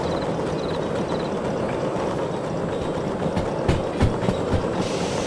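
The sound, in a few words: locomotive rolling on rails in Derail Valley video game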